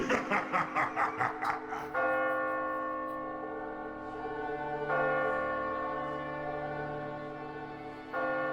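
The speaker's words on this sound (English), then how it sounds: "I can hear the bell, guys." Bell tolling in the video game Catherine: a few quick struck tones, then sustained, ringing bell tones that swell again, loud and resonant, with no talk over them.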